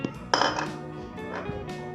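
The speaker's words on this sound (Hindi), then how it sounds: "सबसे पहले 4 टेबल स्पून सौंफ डाल दें इसमें" Fennel seeds spooned into a metal pot for mango pickle, with close, bright clinks of a spoon against the pot and a soft scatter of seeds, repeated a few times.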